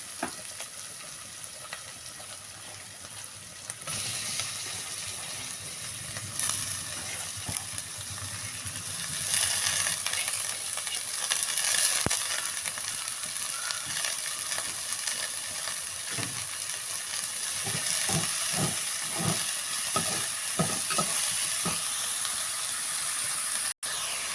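Chopped cabbage sizzles and steams in a hot pan, a continuous frying hiss that swells as it cooks, broken later by a series of sharp scraping knocks from a spoon stirring against the metal.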